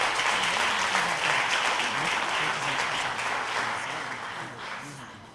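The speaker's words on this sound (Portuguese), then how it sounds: "Vamos aplaudir Jesus." A church congregation applauds during a service, a dense, sustained clapping that fills the room and slowly fades toward the end, with faint voices underneath.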